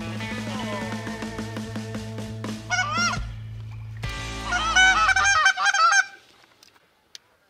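A flock of geese flies in during a late-season goose hunt in Kansas, many loud honks overlapping near the microphone in rising bursts, then cutting off abruptly, with a single faint knock afterward.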